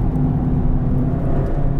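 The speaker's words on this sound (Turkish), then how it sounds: "sesini, yani kompresörün sesini direkt duyuyorsunuz" A 212-horsepower supercharged Toyota Yaris GRMN is driven on a race track on semi-slick tyres. A steady whirring supercharger whine rides over the continuous engine and road rumble from inside the car.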